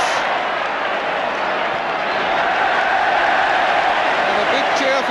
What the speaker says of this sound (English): And a big cheer for Joe Corrigan's first touch.